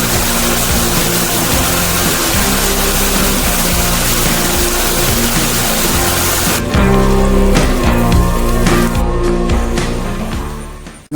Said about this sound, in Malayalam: മഴ കാരണം കേട്ടോ വീഡിയോയിൽ, നല്ല മഴയാണ്.